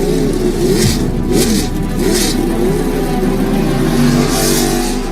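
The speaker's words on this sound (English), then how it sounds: "start your software and crank your engines" Autonomous race cars at Las Vegas Motor Speedway rev their engines, a continuous loud mechanical drone with rising and falling pitch sweeps and some brief brighter bursts layered over it.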